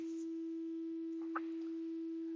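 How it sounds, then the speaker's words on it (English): A synthesizer test tone: a steady pure sine-wave beep held at constant pitch and moderate loudness for the whole stretch, with a brief faint click or noise burst near the middle. "Can you hear a sine wave?"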